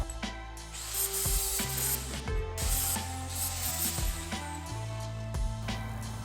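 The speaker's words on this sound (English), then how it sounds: "Now I'm just gonna grind it out closer to the lines and then see if it fits." A metal piece being ground down to marked lines for a Civic engine bay, a harsh, continuous grinder whine with shifting pitch and scraping, close and loud with no speech.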